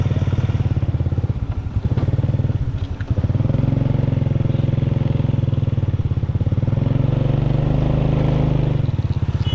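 A motorcycle rides along a narrow road with its engine droning steadily and close for the whole stretch, with a brief dip in the sound near the start.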